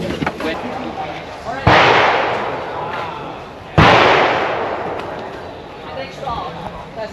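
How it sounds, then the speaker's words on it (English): Gunfire at the Cu Chi Tunnels shooting range: two loud, booming shots a couple of seconds apart, each with a long echoing decay, over a background of crowd murmur and voices. "And there you have the shooting range."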